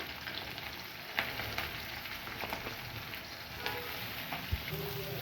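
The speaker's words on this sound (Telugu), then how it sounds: "ఈ రెండు నూనెలో మంచిగా ఫ్రై చేసుకోవాలి" Onions and green chilies sizzle and crackle steadily in hot oil, a constant frying hiss close by with occasional pops and stirring clinks.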